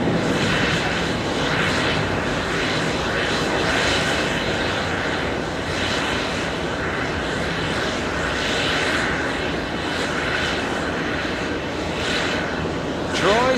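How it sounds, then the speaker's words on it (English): A JetBlue Airbus A321neo lifts off from runway 13 right at JFK, its engines producing a loud, sustained roar with a steady rushing broadband wash that holds nearly constant throughout. "JetBlue lifting off using 13 right for departure. JetBlue 1759, that's an A321neo."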